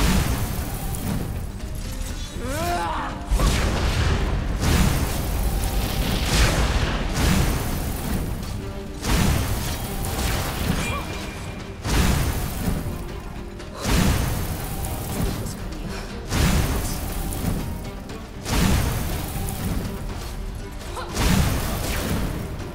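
Enemies blow up one after another in Enderal, the Skyrim total conversion mod: a series of loud booming bursts every couple of seconds, each with a crashing tail, alone with no talking.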